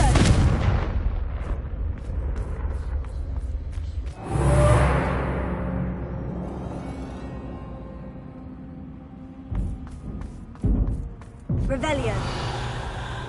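A fiery Confringo spell blast in Hogwarts Legacy, cast inside a haunted Hogsmeade shop: one loud whooshing burst roughly midway, then a trailing rumble, surrounded by softer game ambience and a few sharp thuds.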